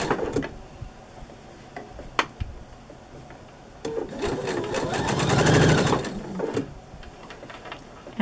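A sewing machine stitches a quilt block seam in short bursts, with a quiet pause and then a steady rapid whirring run of several seconds, plus a few small clicks.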